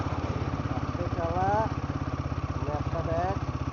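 Close, steady rhythmic thrum of a Royal Enfield Himalayan 450 motorcycle engine while riding, with someone speaking briefly over it twice.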